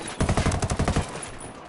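Rapid bursts of automatic gunfire rattle through a video game shootout against a drug kingpin's men, a dense run of loud, close shots for about a second before fading into a ringing, noisy tail.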